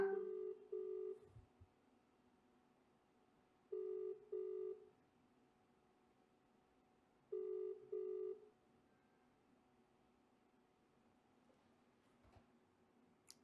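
A phone call being placed to an advocate, with three separate paired ringback tones spaced evenly, a short rest between each pair, in an otherwise quiet room.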